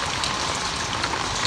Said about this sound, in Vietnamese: Mưa này, mưa không ngớt mà nước thì đang lên chảy xiết kinh khủng.